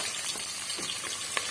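Garlic, green chillies and onions frying in a pan, giving a continuous soft sizzle with a few light stirring clicks, close but fairly quiet.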